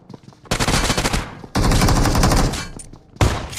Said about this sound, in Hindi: फायर का साउंड आया, लेफ्ट में बंदा